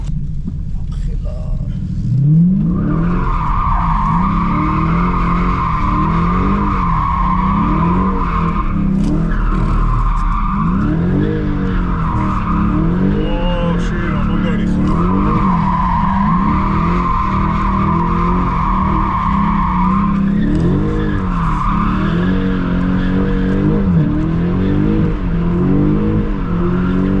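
A car drifting at speed, tires squealing in long wavering bursts over a loud, steady engine rumble that runs close and continuous throughout.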